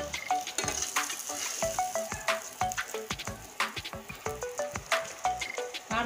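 Pabda fish frying in hot oil, a steady close-up sizzle broken by frequent sharp crackles and pops throughout, with no talking.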